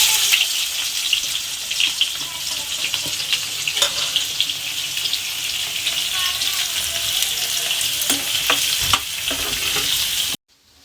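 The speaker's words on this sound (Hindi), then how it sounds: "और अब हम डालते हैं प्याज।" Chopped onions sizzle and fry in a hot pan in a home kitchen, a steady close crackling hiss with occasional stirring clinks, continuing without pause and cutting off at the end.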